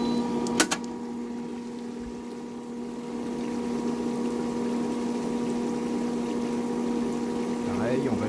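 A pool pump set to the rinse position for winterizing runs with a steady, continuous hum and a faint watery flow, alone at close range, with a brief click near the start.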